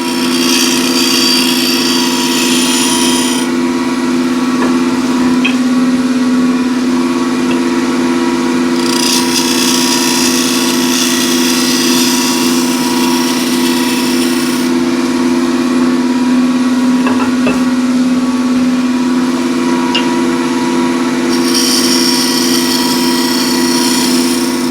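Power tool spinning pull burr refiners in its chuck, giving a continuous steady whine and hum throughout, close and loud, with a brighter high hiss coming and going in stretches.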